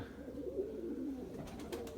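Domestic high-flying pigeons coo softly in low, rolling murmurs nearby. A few brief rustling bursts, like flapping wings, come near the end.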